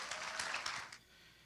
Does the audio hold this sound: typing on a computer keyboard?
no